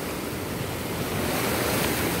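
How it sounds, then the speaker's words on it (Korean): Ocean surf breaking continuously on a Korean beach at Daecheon, a steady broad wash of crashing waves with some wind rumble on the microphone, close and loud throughout. "파도가 부서진다고 표현해야죠"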